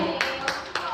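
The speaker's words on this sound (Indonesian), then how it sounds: "Udah dikasih tepuk tangan teman-teman." Classmates give a short burst of applause at the end of a student group's presentation in a classroom, a few quick sharp claps over about a second.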